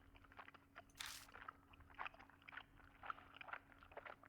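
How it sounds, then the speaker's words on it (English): Gum chewed on the other end of a phone line in the horror game Spirit Hunter: Death Mark makes faint, moist clicks and smacks in an irregular rhythm over a low steady hum, very quiet and with no voices. "I hear a noise like someone chewing gum from the other end of the phone"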